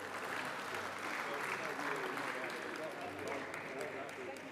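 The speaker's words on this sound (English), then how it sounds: "another round of applause." Faint, distant audience applause at a chefs' association general assembly, a soft continuous patter of many hands that holds steady, with some voices mixed in beneath.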